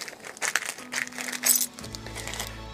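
Chinese coins in a small chest clink and rattle against each other in a brief burst of bright metallic jingles, close and fairly quiet, with no speech.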